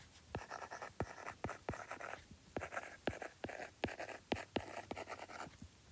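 Marker or pen writing out a math problem: a dozen or so crisp, close strokes and taps in an uneven rhythm, each with a short scratchy tail, with no talk.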